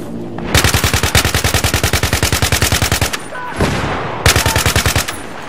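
Machine gun fire in Battlefield 3 from a large-magazine weapon: a long rapid burst of evenly spaced shots, then a pause and a second burst, loud and close.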